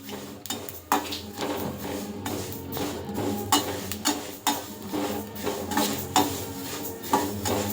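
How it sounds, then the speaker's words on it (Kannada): Sesame seeds roasting in a hot pan over a low flame, stirred with rhythmic scraping and clinking of a utensil against the metal, faint sizzle beneath, with steady background music. "ಈಗ ನಾನು ಎಳ್ಳನ್ನು ಹಾಕ್ಕೊಳ್ತಾ ಇದ್ದೀನಿ ಇದು ಮಾಡಿರುವಂಥ ಎಳ್ಳು ಸಣ್ಣ ಉರಿಯಲ್ಲಿ ಹುರ್ಕೊಳ್ಬೇಕು"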